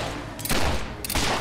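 Two short bursts of gunfire in the video game Fable 3, with a pause between them, each a rough, fairly loud blast over a steady background rumble.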